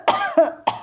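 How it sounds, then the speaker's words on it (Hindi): An old man coughing, two or three harsh, hacking bursts in quick succession, close and fairly loud, with no talk. "कहते कहते उसे खांसी आ गई और वो देर तक खांसता रहा।"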